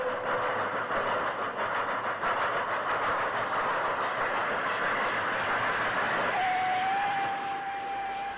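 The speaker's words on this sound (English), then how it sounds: "At Wolverhampton Low Level, we see the rail tour seen earlier at Old Hill and Ayleshowen," A 1960s steam-hauled rail tour train arriving at Wolverhampton Low Level: a continuous, fairly loud rolling rumble of wheels and carriages, with a thin sustained whistle-like tone sounding near the end.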